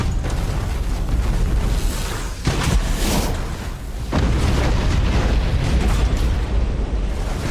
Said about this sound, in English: That is some crisp artillery.